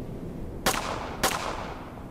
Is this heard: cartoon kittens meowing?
no